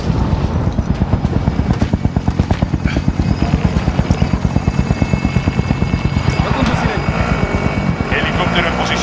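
A helicopter in Call of Duty Warzone, its rotor thudding in a steady rapid beat, loud and close throughout, with voices talking over it.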